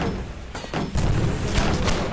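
An incoming rocket explodes in the Holdfast video game, a dull booming blast about a second in, followed by rumbling debris and scattered battlefield noise.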